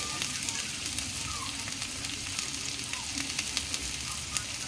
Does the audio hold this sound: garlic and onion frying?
yes